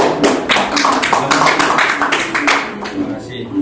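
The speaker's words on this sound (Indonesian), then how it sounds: "Beri tepuk tangan dulu untuk temannya." A small group of students claps for a classmate in a classroom, a steady patter of closely spaced claps that carries on for a few seconds before thinning out.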